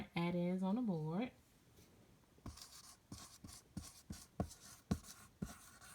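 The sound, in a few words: writing a word on the board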